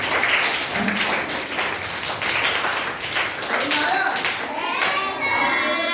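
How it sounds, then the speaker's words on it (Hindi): A room of students claps loudly in a dense burst of hand claps, with a teacher's voice and children's chatter mixed in. "हाथ खड़े करें, ताली बजाइए एक बार जोरदार"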